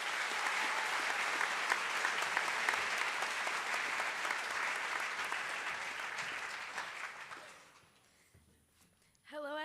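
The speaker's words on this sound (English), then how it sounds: "let's give her a round of applause." Sustained applause from a large school audience at a student election speech, steady and dense for about seven seconds before fading out, followed by a brief burst of sound.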